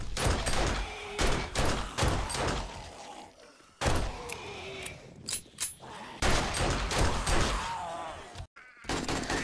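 Bursts of automatic gunfire aimed at a zombie horde in the video game 7 Days To Die, loud repeated volleys separated by brief pauses, with a voice talking between shots.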